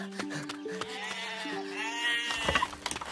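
Sheep bleat in a pen: several wavering calls overlap, fairly faint and close, with some rustling between them.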